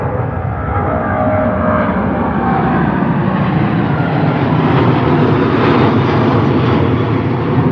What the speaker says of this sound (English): 777-200 off to Chicago. British Airways.